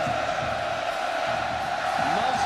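A big stadium crowd in Austin cheers at a 2004 Texas versus North Texas college football game, a loud, steady roar that never lets up, with faint voices mixed in.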